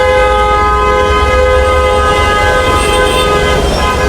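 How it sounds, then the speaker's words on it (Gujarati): A train at Kalupur railway station in Ahmedabad sounds a loud, sustained horn for several seconds over a low rumble of rail traffic, heard up close. "અત્યારે આપણે અહીંયા ઊભા છીએ કાલુપુર રેલવે સ્ટેશન કને છીએ."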